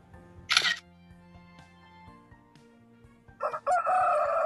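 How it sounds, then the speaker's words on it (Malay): A rooster crows twice, a short burst near the start and a longer, louder cock-a-doodle-doo at the end, played over a quiet backdrop of sustained low musical tones. "Bunyi ayam ayam berkokok."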